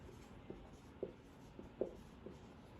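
Marker or chalk writing on a board while working an accounting problem, a few faint strokes and taps spaced about half a second apart, quiet against steady background hiss.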